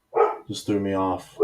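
A pet dog barks a few times at the mailman, close by and mixed with someone talking over it.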